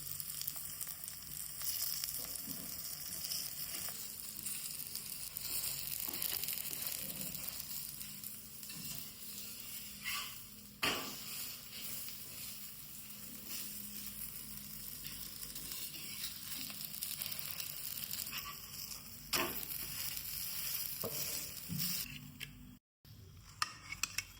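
Uttapam frying in plenty of oil in a pan, a steady soft sizzle running throughout with occasional faint clinks of a utensil.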